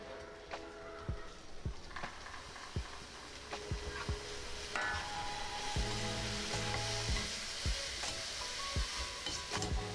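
Vegetables hit a hot kadhai with garlic, ginger and chilli, giving a steady close sizzle and frying hiss broken by sharp scrapes and knocks of a spatula stirring against the metal pan, with no talking.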